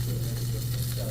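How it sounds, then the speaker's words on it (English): Steady, faint sizzling of chicken frying in a hot pan, a soft continuous crackle with no talking. "You hear the sizzle sound? That's when you did a good job."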